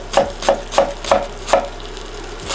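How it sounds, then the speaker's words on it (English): Knife chopping a big white onion and garlic on a board, five evenly spaced firm thuds close up, then the strokes stop and only faint room noise remains. "it's time to get the onion and garlic cut up as well"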